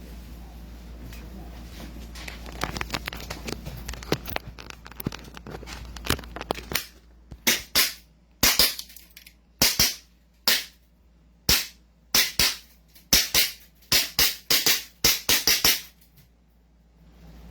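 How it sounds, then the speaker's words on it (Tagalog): CZ Shadow 2 pistol test-fired at a range, about a dozen sharp, loud shots in an irregular rhythm across the second half, after a stretch of faint background chatter and handling noise. "Firing, Sir Ivan."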